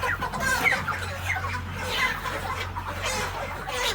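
Live chickens packed inside a loaded vehicle cluck and squawk in scattered bursts over a steady low engine drone, fairly close and continuous.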